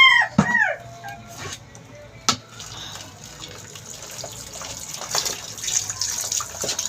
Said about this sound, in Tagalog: Ito, hugas pinggan, tapos maghugas,